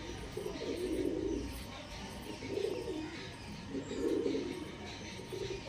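Andhra pigeons coo in soft, low, repeated bursts, several overlapping calls rising and falling close by against a faint background hiss.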